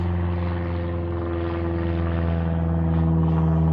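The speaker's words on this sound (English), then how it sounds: "Another plane going over." A small propeller plane flies over a rural cemetery near a little airfield, its steady droning engine hum loud and continuous throughout with no voices.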